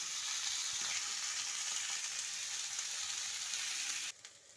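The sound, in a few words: chickpeas frying in a pan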